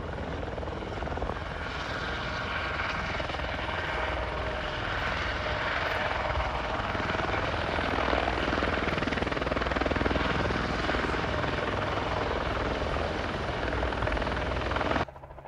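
A single-turbine helicopter's turbine whine and thumping rotor drone hold steady and loud for about fifteen seconds, swelling slightly as if passing nearby at an air show in Cholet.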